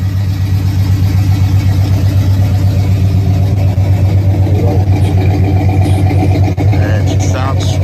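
A mostly original Oldsmobile-type muscle car with the W30 package, factory headers and factory ram air idles loud and close, a steady deep pulsing rumble throughout with faint voices in the background.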